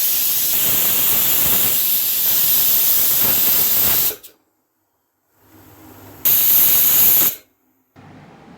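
Loud, steady hissing of a pressure cooker whistle venting steam in two bursts, separated by a near-silent gap, with faint background noise between.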